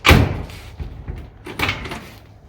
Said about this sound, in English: we'll be able to open the door from the outside.